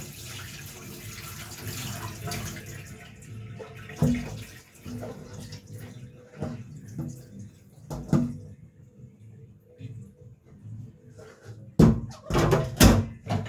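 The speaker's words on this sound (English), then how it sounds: "so we'll use some running water." Tap water runs steadily at moderate volume while washing beef for Jamaican curry, with a few sharp knocks and clatters, like objects handled in a sink, breaking in near the end.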